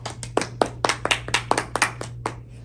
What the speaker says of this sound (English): Let's give Clara a round of applause